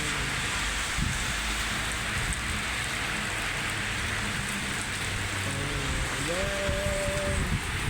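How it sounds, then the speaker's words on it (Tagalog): Steady heavy rain falls through the night in Taif, Saudi Arabia, a dense, constant hiss of drops on surfaces, with faint voices murmuring briefly near the end. "Lumalakas na ang ulan."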